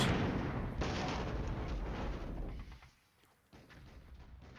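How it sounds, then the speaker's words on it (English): Artillery strikes in the Flashpoint Campaigns wargame: a broad, dense rumble of booming impacts and crackling blasts fills most of the stretch, dips briefly near the end, then returns, with no talk over it. "Come on, let's get those artillery strikes."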